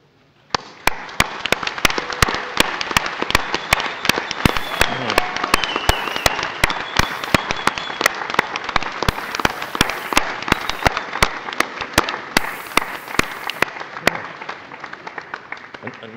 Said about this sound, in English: offer your applause to the people that have helped you on the way